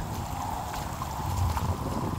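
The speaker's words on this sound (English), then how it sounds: "So here's all the water coming out." Rainwater overflowing a log dam in a Central Texas water-retention landscape after heavy rain, a steady continuous rushing like a small river, close by with some wind noise on the microphone and no talking.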